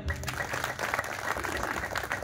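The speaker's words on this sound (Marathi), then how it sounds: "जे कोण कारागीर असतील त्याच्यासाठी टाळ्या होऊन जाऊ दे" A crowd claps steadily in a continuous patter of applause at a bhajan devotional singing performance, moderately loud, with some voices mixed in.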